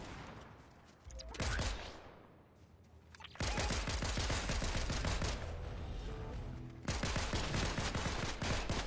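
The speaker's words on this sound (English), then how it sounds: "this shotgun shoots flipping miles away" Shotgun blasts in the Fortnite video game, a loud burst of rapid overlapping shots, then a lull, then long sustained volleys of heavy gunfire with a voice talking faintly underneath.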